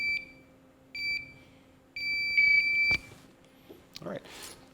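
A backup LVAD controller beeps through its power-down countdown, sending steady high electronic tones in spaced bursts that grow longer, followed by a couple of soft clicks and handling noises nearby.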